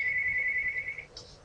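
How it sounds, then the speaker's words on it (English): A phone rings with a steady electronic tone that holds for about a second and then cuts off, leaving a brief softer chirp. The sound is moderately close and has no voices over it. "Excuse me, my phone's ringing."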